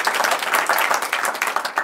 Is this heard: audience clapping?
yes